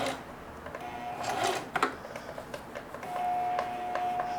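Sewing machine stitching a zigzag seam on denim, a continuous mechanical whir with rapid needle ticks and a brief clunk partway through, close and steady.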